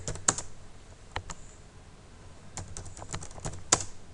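C# code is typed on a computer keyboard in short irregular bursts of crisp, close key clicks, with occasional louder keystrokes and brief pauses between runs.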